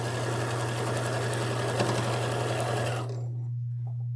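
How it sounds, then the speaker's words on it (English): A sewing machine stitches a denim quilt made from old jeans, holding a loud, steady close-up hum for about three seconds before it stops abruptly and leaves a low background hum. "And here I just sew right over where that seam is so that that's all nested nicely and held in place."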